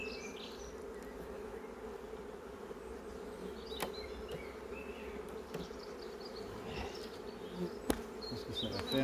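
Honeybees at a hive brood frame make a steady, low buzzing drone throughout, with occasional closer passes and faint clicks, and no talk.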